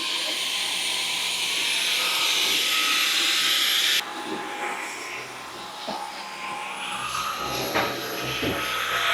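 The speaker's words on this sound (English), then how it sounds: "we'll just hoover around the dog crate in the office" A Dyson V15s Detect Submarine cordless vacuum hoovers around a dog crate in an office, a steady loud high whine with a pitch change partway through and faint bumps of the head moving.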